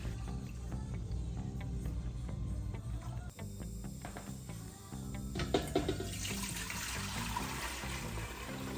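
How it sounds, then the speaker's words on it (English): Equal parts apple cider vinegar and water are poured for cucumber pickles, a continuous running, splashing stream of liquid that shifts in tone partway through, with soft clinks and no talking. "let's add equal parts of apple cider vinegar and water."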